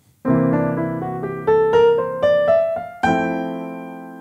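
Piano chords played in sequence with melody notes stepping upward, ending on a louder, ringing final chord resolving to F that settles the progression; no voices.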